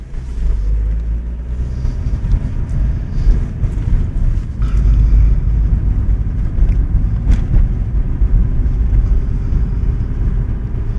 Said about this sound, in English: I'm driving my car right now, doing about 50 miles an hour on a 30-mile-an-hour road